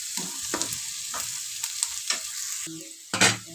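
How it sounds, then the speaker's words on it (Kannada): Onions frying in oil in a pan for a hotel-style breakfast dish, a steady close sizzle broken by several short scraping stirs of a spoon, with no voices. "ಈರುಳ್ಳಿ ಇದರಲ್ಲಿ ಚೆನ್ನಾಗಿ ಫ್ರೈ ಆಗಬೇಕು"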